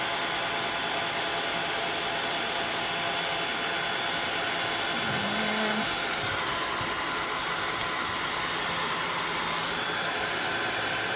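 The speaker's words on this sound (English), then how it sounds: "hit this with the hair dryer." A hair dryer blows steadily and loudly at close range over taped watercolor paper. Its constant whooshing hum runs unbroken for the whole stretch, with only a slight shift in pitch partway through.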